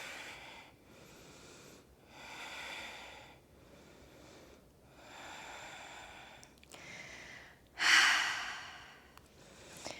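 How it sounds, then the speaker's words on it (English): Slow, steady breaths during a yoga and weight-training session, several soft inhale-exhale cycles close to the mic, ending in one louder, sharper exhale. "and breathe."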